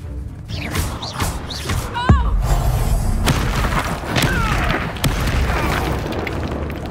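A Confringo fire spell bursts with a loud, sharp boom in Hogwarts Legacy, set against busy combat noise with thuds and crackling debris through the scene.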